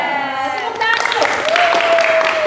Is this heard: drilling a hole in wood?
no